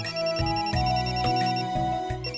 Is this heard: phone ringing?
yes